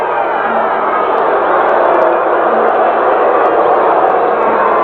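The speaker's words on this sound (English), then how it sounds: "The crowd still booing just a little bit after that last call, expressing their displeasure." Large stadium crowd at a 1983 USFL football game between the Blitz and Wranglers, giving off a loud, steady, broad roar of massed voices that stays level throughout with no pauses.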